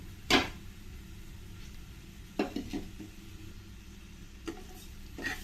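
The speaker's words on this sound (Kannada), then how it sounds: "ಹುರಿದಿರೋ ಅಕ್ಕಿ ಹಾಕ್ಕೊಳ್ತಾ ಇದ್ದೀನಿ" Pan-roasted rice tipped into a pan of frying vegetables: a few sharp clatters and scrapes of stirring over a low, steady frying hiss, with no talking.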